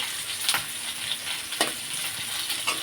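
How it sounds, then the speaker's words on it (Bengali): Ginger-garlic paste fries in hot oil for a Bengali mutton curry, giving a steady close sizzle with a few sharper crackles and light stirring scrapes. "আদা রসুন পেস্টগুলো তেলের মধ্যে দিলাম ভেজে নেব"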